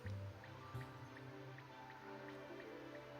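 Plaster mix bubbling up in a mould, heard as faint, irregular small pops and drips over a steady low hum, close and quiet.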